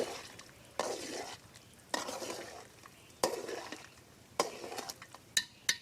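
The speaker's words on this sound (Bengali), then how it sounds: "তো অনবরত নাড়ার উপরই থাকতে হবে কারণ নিচে লেগে যাওয়ার ভয় থাকতে পারে" A thick beef curry gravy, thickened with rice flour, being stirred steadily in a pot, with a spoon scraping at intervals in clear repeated strokes over a quiet, soft bubbling background.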